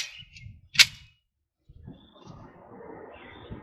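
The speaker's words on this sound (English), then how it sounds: "Got 5 rounds of the Federal 230 grain FMJs that we sighted it in with." A single sharp crack from an ADE Delta pistol firing a Federal 230 grain .45 ACP FMJ round at a range, fairly distant and brief, followed by quiet outdoor ambience.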